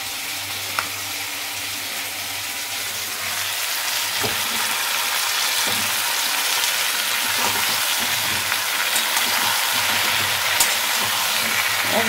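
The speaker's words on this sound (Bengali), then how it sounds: "একদম তেলের মধ্যে দিয়ে কষাবো, কষিয়ে রান্না করবো" Taro (maan kochu) fries in oil in an iron wok with a loud, continuous sizzle close by, broken by a few soft stirring clicks and no voices.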